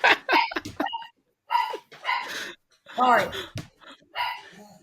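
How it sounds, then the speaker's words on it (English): Dogs bark and yip in short bursts in the background while people talk over them close by. "There's the dogs."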